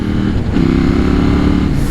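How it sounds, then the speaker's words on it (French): A KTM motorcycle engine drones loudly and steadily while being ridden, its low hum shifting up slightly in pitch partway through, with constant wind and road noise. "On sent que la moto marche beaucoup moins fort."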